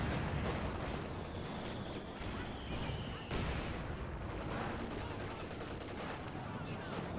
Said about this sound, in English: Panzer Grenadier Squad does get completely annihilated by all the SMGs